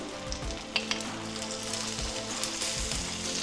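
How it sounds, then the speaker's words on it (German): Salmon pieces frying in melted butter in a pan, a steady close crackling sizzle with scattered sharper pops throughout, no talk. "Sie werden jetzt von beiden Seiten angebraten, etwa 4 Minuten pro Seite."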